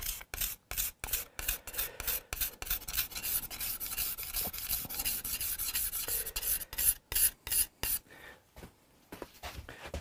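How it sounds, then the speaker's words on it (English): Hand scraper or sander working the wood of a Hofner Galaxie guitar under restoration, a rapid run of rough, raspy strokes close up that breaks into short separate scrapes and then trails off near the end. "I'm getting a pretty good finish straight off the sander, straight off the scraper"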